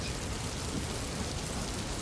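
Steady rain patters on a house roof, a dense even hiss with no breaks, moderately quiet and with no voices.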